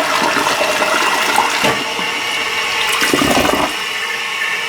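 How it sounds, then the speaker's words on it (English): A toilet flushes close by, water rushing and swirling through the bowl for several seconds with a surge partway through, then settling into a steady refill. "we'll flush the toilet"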